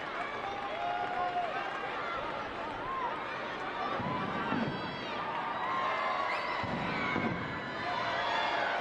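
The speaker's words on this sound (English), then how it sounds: "The crowd here at Audi Field getting more and more into it, trying to push their team on." A soccer crowd at Audi Field in Washington, DC during a women's match builds its noise, with cheering and chatter rising in waves under a commentator talking over the stadium din.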